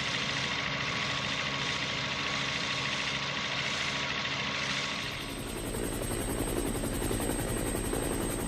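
Helicopter hovering during a flood rescue, a steady, heavy rotor drone with a constant engine hum that changes tone partway through and carries on without letup.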